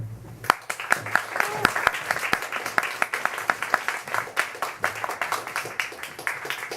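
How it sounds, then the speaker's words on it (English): An audience at a book-release reading at The Wild Detectives gives a warm round of applause, a lively run of distinct, close handclaps that keeps going at a fairly even pace, with a few murmured voices underneath. "Please give me a fantastic warm round of applause for Matt Morton"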